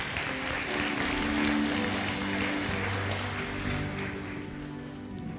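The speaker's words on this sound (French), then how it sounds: "Merci, on l'applaudit ensemble." A church congregation applauds during a French-language sermon, sustained clapping that holds steady and then thins out slightly toward the end, with a faint musical tone underneath.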